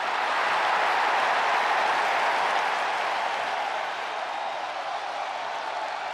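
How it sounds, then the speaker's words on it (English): WWE SmackDown crowd giving Bianca Belair a long ovation, a broad steady wash of applause and cheering that holds loud and even, easing slightly toward the end. "Listen to this ovation. The WWE Universe loves cheering on the EST."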